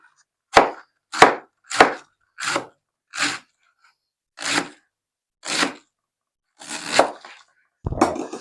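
A knife slicing cabbage into thin slices on a board, nine distinct crisp cuts spaced at even intervals with silence between them, close and clear with no talk.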